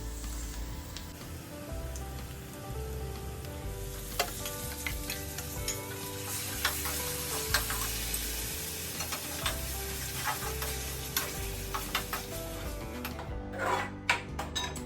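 Mustard greens go into fried onion, chili and spices for sarson da saag, a steady crackling sizzle with rhythmic scraping strokes of a spoon against the pan, close up, with a brief clatter near the end.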